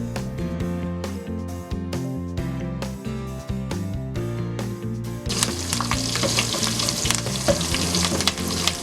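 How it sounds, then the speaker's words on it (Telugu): Steady, loud sizzling of onions and curry leaves frying in hot oil for a moong dal rasam tempering, with the crackle growing brighter and fuller partway through. "ఉల్లిపాయ కూడా కొంచెం వేసుకొని లైట్ గోల్డెన్ కలర్ వచ్చే వరకు ఫ్రై చేసుకోవాలి"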